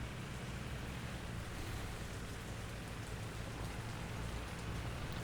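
Steady rain falls in the video game Workers and Resources: Soviet Republic, a soft, even patter that continues unbroken and fairly faint with no voices.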